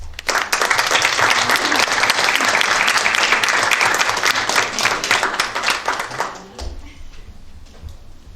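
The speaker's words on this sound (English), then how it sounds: "I think we all owe Caitlin Lazowski and Greg Sinekropi a round of applause for their efforts and service" Town board meeting audience in Seneca Falls applauding Caitlin Lazowski and Greg Sinekropi, a full, steady roomful of clapping that swells for several seconds, then fades out into a quiet hall with low background hum.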